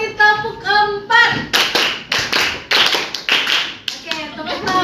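A class of children claps a rhythmic counted pattern in a lesson. Crisp group handclaps land in a steady beat of separate beats, with children's voices chanting before and between them.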